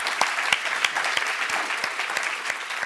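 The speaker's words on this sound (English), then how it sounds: "please join me in one more round of applause for all of our speakers" An audience at an afternoon panel event applauds the speakers, a steady, dense round of clapping heard throughout at moderate distance, with no talking over it.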